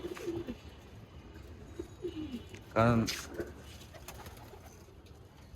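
Racing pigeons coo in short, soft phrases, with one louder, closer coo burst in the middle, while someone speaks briefly over a quiet outdoor background.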